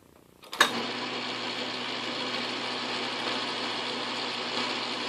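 A lathe cuts a fine metal shaving on a prop sleeve nut adapter extension, starting with a sharp onset and then holding a steady, even whirring hum close by.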